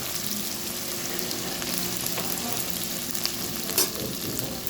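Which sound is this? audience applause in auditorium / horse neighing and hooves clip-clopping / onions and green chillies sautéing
onions and green chillies sautéing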